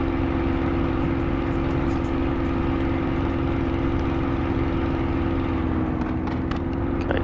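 A Spitfire engine droning steadily and loudly through aerobatic flight, running under heavy stress and starting to choke and falter, a continuous rough roar with slight roughening near the end.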